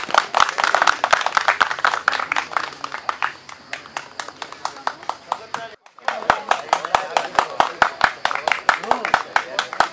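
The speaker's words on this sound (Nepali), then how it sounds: "ताली बजाइदिनु होला।" Steady rhythmic clapping from an audience at a men's doubles badminton tournament ceremony, loud and close, with a brief pause midway before the rhythmic claps resume; a voice speaks over it at times.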